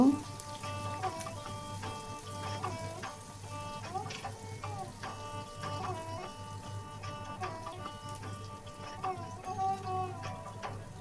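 Dried fish, shutki, frying in oil with chopped onion and garlic in a pan, cooked for a Bengali curry with greens and jackfruit seeds. The sizzle runs steadily and close throughout, with clinks and scraping stirs over it and music playing along.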